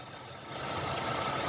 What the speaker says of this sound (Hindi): ये धड़क रहा है इंजन कितना ज्यादा, तो अभी इसे चेक करने वाले हैं।